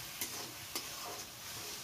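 Ground spice paste is stirred and sautéed in hot oil with tomatoes in a pan for a Bengali rui fish curry with potatoes, giving a soft steady sizzle with a few sharp scrape or tap sounds from stirring.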